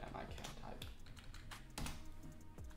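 Keys tapped on a computer keyboard while an SSH command is entered, irregular clicks with a few sharper strikes, close but quiet over a faint background, with some speech-like sound mixed in.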